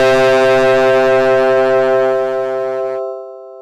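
Raw Glide patch from Brian Eno's 1980s DX7 played on a Korg Opsix synth, a sustained bright organ-like drone with layered harmonics that cuts off into a softer lingering tone near the end.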